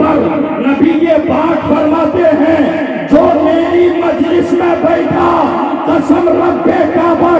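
A large crowd at a religious speech gathering roars the slogans Naara-e-Takbeer and Naara-e-Risalat in loud, massed unison, with a leading voice calling and the crowd answering in repeated, rhythmic bursts.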